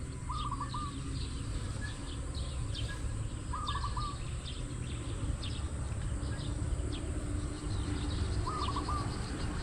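Birds circling over a red tilapia fish pond give short, faint chirps that recur a few times at a distance over a steady outdoor hiss.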